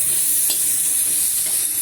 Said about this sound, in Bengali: আমি ডাঁটাটাকে ভেজে নিই, একটু লবণ হলুদ দিয়ে ভেজে নেব।